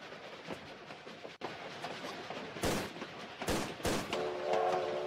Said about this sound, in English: you have to shoot the padlock